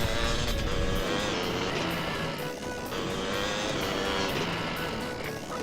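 A motorbike engine in the video game GTA San Andreas keeps up a steady revving whine with shifting pitch, loud and continuous, with a brief dip midway.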